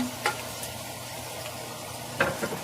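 Pork for salpicao sautéing in hot oil, a continuous sizzle with a few sharp scraping stirs of a utensil against the pan.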